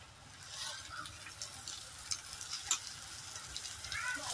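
Onion and tomato frying in oil for tomato chutney, a faint, soft sizzle with light crackles and occasional ticks, quiet and steady without speech.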